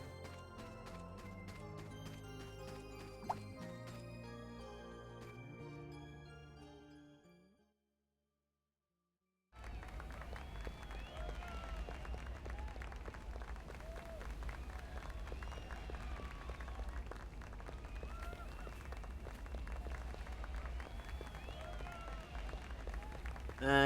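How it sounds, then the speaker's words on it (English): A crowd cheers and claps continuously in the video game Fantasian Neo Dimension. The noise follows a stretch of music and a brief silence and holds steady as background ambience. "I guess people who are cheering don't want to talk."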